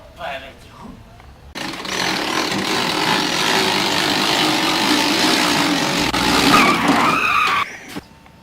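Motorcycle arriving with a sustained, loud tire skid that lasts several seconds and then stops abruptly, with voices talking before and over it.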